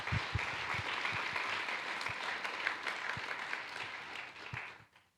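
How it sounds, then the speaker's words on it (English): Audience at a PLDI 2022 conference business meeting applauds in a sustained, even wash of clapping that carries for about five seconds before fading out at the end. "Let's have a round of applause for all these folks."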